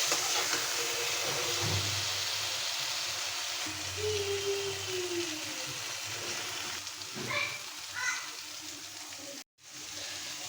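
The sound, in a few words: frying onion, chilli, ginger and garlic for chepa shutki bhorta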